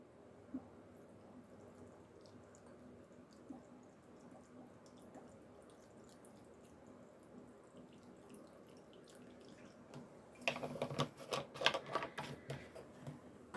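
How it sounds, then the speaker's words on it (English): Vodka poured over dried mullein leaves, a low liquid trickle running steadily, then a louder, sharper splashing burst near the end before settling back. "This is a vodka that I'm just going to pour over this"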